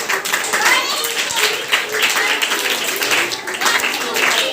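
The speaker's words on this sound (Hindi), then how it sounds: "एक विशेष ताली बजाइए, एक विशेष ताली।" Children at a play school function clap together in a steady, dense burst of applause lasting several seconds, fairly close and loud, with some voices mixed in.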